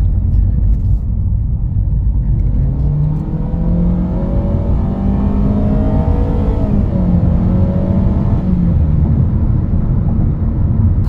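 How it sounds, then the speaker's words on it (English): A 2021 Honda HR-V Sport AWD engine drones loudly and rises in pitch as the SUV accelerates, steady rumble throughout, close and without talking. "It's loud and the engine's loud"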